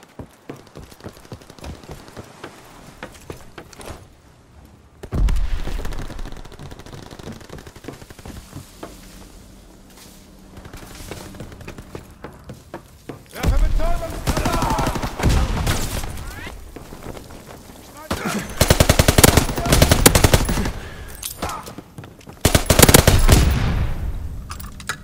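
Battle gunfire from the Call of Duty WWII game: rapid automatic bursts and heavy shots, loud and close, coming in waves over a continuous din, with quieter stretches between the intense volleys.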